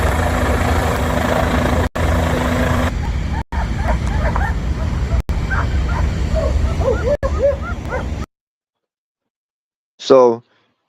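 Several dogs bark, yip and whimper in rapid bursts during a funeral procession, with a running engine and voices underneath, then a pause and a brief sharp yelp at the end.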